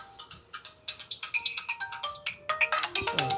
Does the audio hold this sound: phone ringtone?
yes